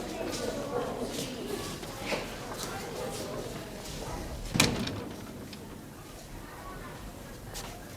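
A door closes with a single sharp thud partway through, in a school office with some room murmur and movement around it.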